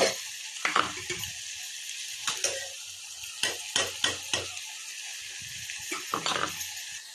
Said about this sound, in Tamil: அடுத்து இப்போ இஞ்சி பூண்டை சேர்க்குறோங்க.